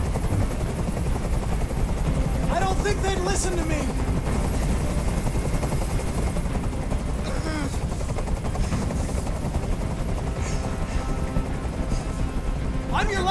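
Helicopter from the video game Detroit: Become Human, hovering overhead with a steady, loud rotor drone that persists throughout, under tense spoken dialogue.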